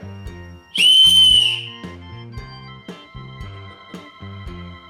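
A homemade wooden whistle, lathe-turned, gives one loud, steady, high-pitched blast lasting about a second over a quiet backing of repeating musical notes, with no voices.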